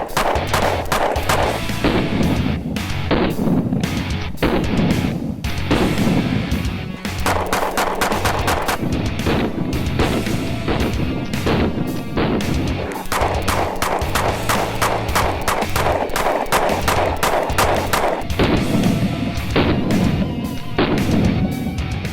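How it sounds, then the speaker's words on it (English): A Sig P365 pistol fitted with a Tyrant CNC trigger fires rapid, sharp gunshots in dense volleys, one sharp crack after another, loud and close throughout with barely a pause. "You really didn't think I was going to let you go without an epic shooting montage"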